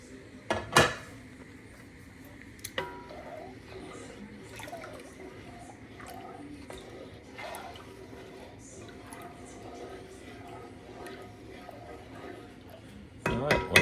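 Milk is stirred in a pot for homemade mozzarella: soft scraping and light metallic clinks, fairly quiet, with a louder clatter at the start and the end and faint room noise in between.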